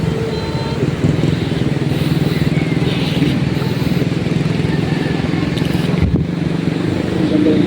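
A motor engine drones steadily and loudly throughout, a continuous close rumble with people talking over it.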